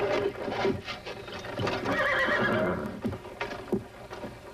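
A horse being trained as a saddle horse whinnies loudly several times, with hooves clip-clopping and shuffling nearby between the calls.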